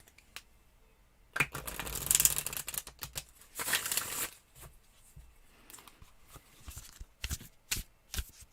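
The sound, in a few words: shuffling cards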